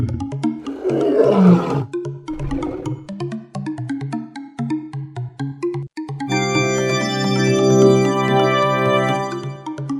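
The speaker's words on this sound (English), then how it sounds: "It's a lion." A lion lets out two loud, rough roars close up, followed by a lighter musical jingle.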